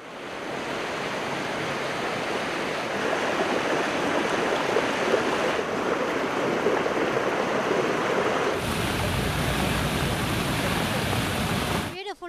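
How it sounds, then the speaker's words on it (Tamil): Floodwater rushes from a breached lake into nearby villages after heavy rain, a loud, steady broadband roar of flowing water that continues unbroken for the whole stretch and shifts slightly in tone near the end. "ஏரியின் மையப்பகுதியில் உடைப்பு ஏற்பட்டது இதனால் ஏரி அருகில் உள்ள கந்தம்பாளையம் காணிமேடு உள்ளிட்ட கிராமங்களை வெள்ள நீர் சூழ்ந்தது"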